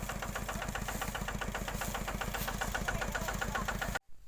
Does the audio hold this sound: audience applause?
no